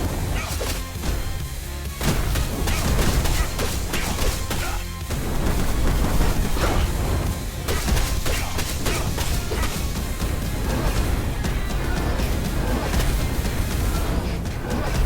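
Explosions in a video game boom and crash continuously, loud, dense and overlapping, with thuds, whacks and whooshes packed together throughout without a break.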